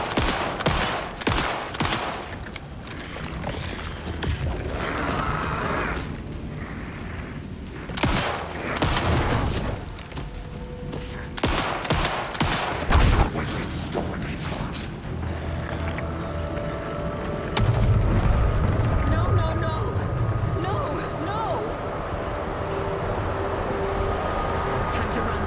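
Gunshots ring out during combat in the video game Alan Wake II, with repeated loud blasts in clusters early on and scattered shots later over a steady rumble of ambience, while a voice speaks now and then.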